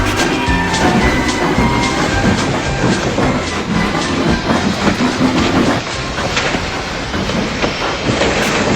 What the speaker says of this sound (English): Donald and Douglas, puffing hard, managed to haul Thomas back to safety.